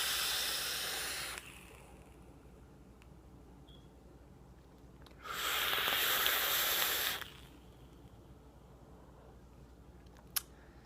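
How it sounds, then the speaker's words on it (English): Air drawn through an Indulgence MutationX v4 rebuildable vape atomizer makes two soft, breathy hissing draws, one long and one shorter, separated by quiet, followed by a brief click. "More airflow through this, definitely."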